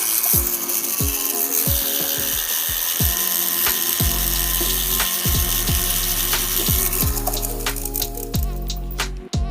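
A rotary tool pre-polishes a jewelry helix ring, a continuous high-pitched whining drone with shifting pitch and repeated short scraping bursts as the bit touches the metal, close and loud throughout.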